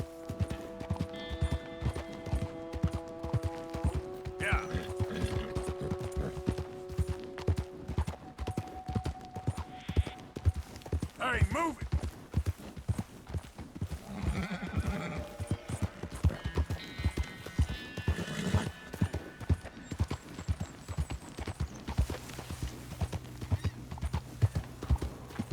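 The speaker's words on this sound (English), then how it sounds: "Hey, that's a nice looking horse you have there." Horse hooves clip-clop steadily at a walking pace in Red Dead Redemption 2, with a brief neigh. The hoofbeats are close and continuous over a musical backdrop.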